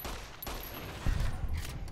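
Gunfire in Fallout: New Vegas cracks through moderately loud game noise, with a heavier burst of shots near the middle of the clip and no voices.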